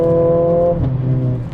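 Mercedes CLA 45 AMG 2020 with its 2-liter 4-cylinder engine in Sport Plus mode, a loud close harmonic engine drone that shifts down partway through and continues with a rougher note; no talk.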